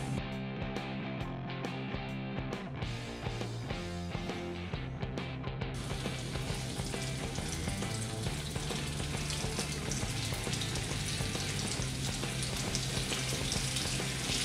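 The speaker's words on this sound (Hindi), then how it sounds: "एक चम्मच ऑयल और 1 चम्मच बटर कढ़ाई में डाला है, जिसमें हम ये चिकन के पीसेस डालेंगे।" Chicken tikka pieces fry in a kadhai with a spoon of oil and butter, giving a steady, close crackling sizzle for the whole stretch with no talking.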